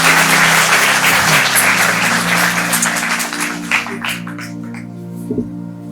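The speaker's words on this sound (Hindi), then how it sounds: "मैं एक बार जोरदार तालियों के साथ आदरणीय का पुनः अभिवादन करवाना चाहूंगा।" A crowd at a formal public talk program applauds loudly in a full, dense burst that gradually thins into scattered claps, with a steady hum running underneath throughout.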